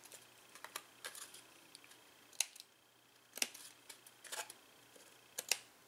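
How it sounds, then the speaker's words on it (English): Soft snipping of scissors trimming small excess pieces off the edge of a decorative paper craft box, scattered quiet cuts in uneven clusters, close over faint background hum. "I'm just going to go in here and trim off these little pieces that are sticking past the edge of the box."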